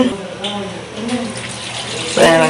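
Milk poured into a crab curry simmering in a village kitchen in Jaffna, a steady liquid pour running beneath a voice, swelling into a louder gush toward the end.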